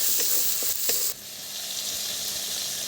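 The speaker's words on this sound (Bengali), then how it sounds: "দিয়ে আবারও মশলাটাকে আমি ভালোভাবে কষিয়ে নেব।" Spice paste with turmeric and chili powder frying in a pan for cabbage curry, a loud, continuous hiss of sizzling oil with a few soft stirring knocks early on.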